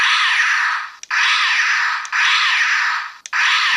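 Deluxe Jungle Blaster toy giving off a loud electronic hissing sound effect in three bursts of about a second each, divided by short clicks, with no voices.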